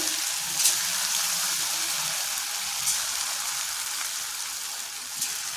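Snake gourd pieces fry in hot oil over a medium flame, a continuous hissing crackle with a few louder pops, steady and fairly close throughout.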